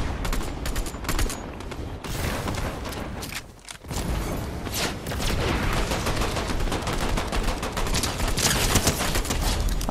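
Rapid gunfire in the video game Fortnite, dense volleys of shots rattling almost nonstop at close range, with one brief lull around the midpoint before the firing resumes loud and steady.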